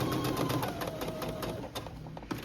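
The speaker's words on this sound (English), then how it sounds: "we're gonna start by sewing a straight stitch here" A sewing machine runs a straight stitch on fabric with a fast, even mechanical needle rhythm close by, continuous for the whole moment with no talking.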